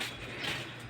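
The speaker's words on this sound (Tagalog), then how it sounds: "Ay, andap-andap yung electric fan mo na yan." A small, worn electric fan hums and rattles steadily at close range in a patched-together house, its motor giving off a continuous mechanical whir with a faint ratcheting clatter.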